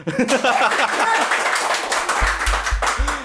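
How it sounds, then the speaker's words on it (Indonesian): Applause breaks out on an Indonesian football fan talk show, scattered claps with chuckles and voices mixed in, brief and close, followed by low thumping taps. "tepuk tangan"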